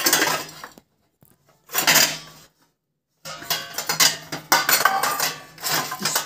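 Someone rummages through a crate of metal utensils hunting for a spoon: loud, close clatter and scraping in bursts, broken by brief silences, then a longer stretch of continuous jangling and clinking.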